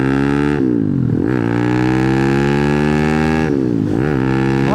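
A Honda Grom clone motorcycle swapped with a 212 four-valve engine runs loud and close, holding steady high revs with two brief dips where the throttle drops off and climbs back up.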